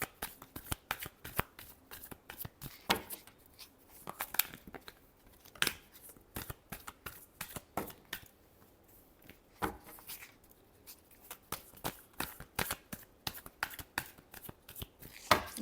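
Tarot cards are shuffled by hand in a long run of crisp, rapid riffling flutters and snaps, close and steady throughout, with no voices.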